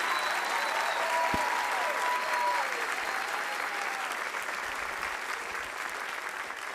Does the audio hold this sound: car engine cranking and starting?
no